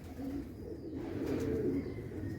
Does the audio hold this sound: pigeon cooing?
yes